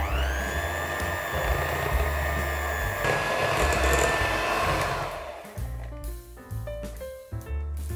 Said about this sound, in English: we need to use an electric hand mixer for this